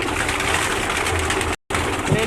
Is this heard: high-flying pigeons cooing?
yes